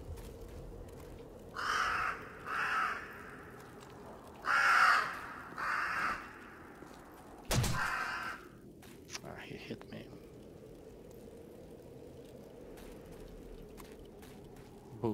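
Crow cawing in the zombie survival game 7 Days to Die, a few harsh caws in short bursts at moderate distance, with a sharp thud partway through and someone talking under the game sounds.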